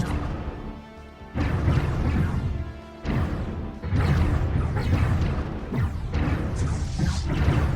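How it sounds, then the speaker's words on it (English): Space battle in Stellaris with laser fire, dense bursts of crashing, booming impacts and rushing noise that come in waves and briefly drop off before resuming, loud throughout. "Battle commence. Lasers. Hostile Fire!"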